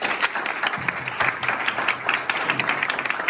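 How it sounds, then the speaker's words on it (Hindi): An audience claps at an outdoor gathering in Chikhaldara, Maharashtra, giving irregular bursts of many hands at moderate distance that rise and fall in uneven waves. "ताली बजा सकते हैं"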